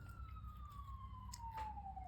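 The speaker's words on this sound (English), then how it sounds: "And there goes the sirens again." A far-off city emergency vehicle siren drifts in as a thin, slowly falling wail beneath quiet room noise.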